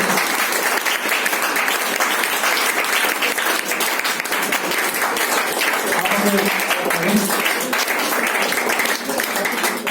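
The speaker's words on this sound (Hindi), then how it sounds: "ताली बजाओ, ताली ताली।" Sustained, loud applause fills a hotel hall during a marketing training session, many hands clapping steadily with faint voices underneath.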